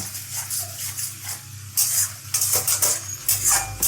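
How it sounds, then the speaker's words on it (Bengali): Lote fish bhorta is mixed in a pan with a spatula, producing soft scraping and light clatter in uneven strokes under a faint sizzle, close by, with no voices. "এটাকে ভালো করে মিশিয়ে নেব।"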